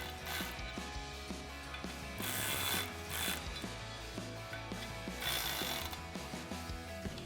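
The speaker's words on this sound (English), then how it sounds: "Then we can tighten those down with a 9/16 socket." Ratchet with a 9/16 socket tightening bolts on a steering stabilizer bracket of a Ford F-250, rapid clicking pawl strokes in repeated bursts, close and clear.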